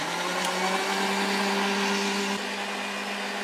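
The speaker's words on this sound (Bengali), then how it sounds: "তো এখন এইটা একটু মিক্সিতে ঘুরিয়ে নেব।" A kitchen mixer grinder blends appam batter with a steady loud whirring drone, its pitch dropping slightly partway through as the motor load changes, running continuously without any talk.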